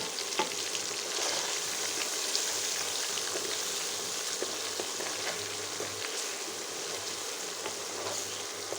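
Parboiled potato pieces frying in a pan with turmeric give off a continuous, even, close sizzle that hisses steadily throughout, with a few faint clicks and no talking.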